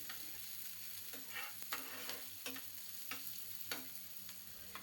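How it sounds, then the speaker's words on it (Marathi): Onion frying quietly in hot oil until brown for a padval bhaji, a soft continuous sizzle broken by several sharp taps and scrapes of a spoon stirring the pan, with no talking. "कांदा घालून आपण काय करायचं आहे, ब्राऊन होईपर्यंत भाजून घ्यायचा आहे"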